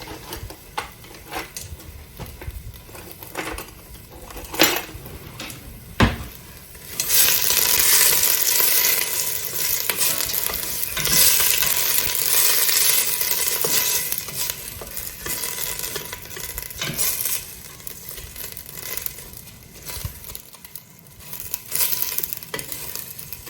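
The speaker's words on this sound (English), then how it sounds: "So we're gonna saute these up." Garden onions sauté in a pot, a steady broadband sizzle that swells loudly partway through and holds, with occasional clinks and stirring scrapes; no one speaks.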